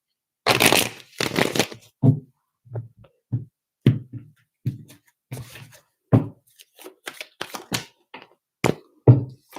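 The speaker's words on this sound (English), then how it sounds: "One more shuffle." Tarot cards being shuffled by hand during a live reading, a series of soft riffling and tapping bursts, longer at first and then shorter, close and fairly quiet with no talk.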